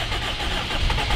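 A car engine cranks and catches, settling into a steady, rough mechanical rumble that stays loud and close for about a second.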